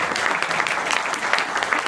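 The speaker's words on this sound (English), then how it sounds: "Big round of applause for Scott." Steady applause from the audience at a men's prayer breakfast at St. Benedict's Parish in Halifax, Nova Scotia, honoring Scott LeBlanc; dense, continuous clapping fills the room at an even level, with no voices above it.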